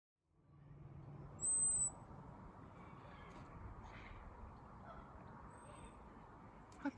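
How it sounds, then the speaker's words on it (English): High, thin peeping calls from an adult male blackbird in a garden in April, brief and sharp, standing out above a steady wash of outdoor background noise. "I thought I could hear baby blackbirds, but that very high-pitched peeping is from the male adult"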